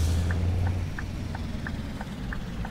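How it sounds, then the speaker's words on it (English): A Scania T Series truck engine in Euro Truck Simulator drones low and steady at a constant pitch, with faint ticking clicks repeating at regular intervals over it. "Love the way the truck sounds"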